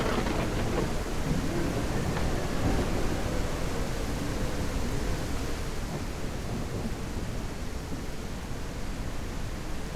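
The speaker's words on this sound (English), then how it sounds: "this rain is super loud" Loud, dense rain pours without letup in Soviet, an isometric post-apocalyptic survival video game, a steady broadband roar that fills the whole stretch with no voices over it.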